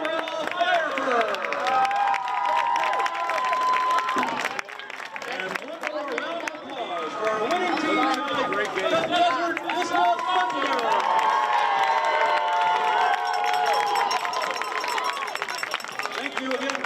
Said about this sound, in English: how about a round of applause to celebrate a great season first for the Chaparral Firebirds